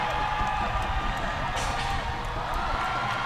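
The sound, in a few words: crowd cheering at rugby sevens match, Korea vs Japan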